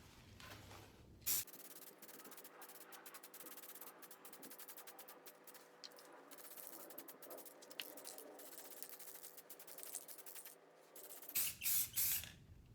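Caliper paint hisses from a spray can onto brake parts from a 1978 Yamaha XS1100, one long continuous close spray with short clicks and rattles at the start and end.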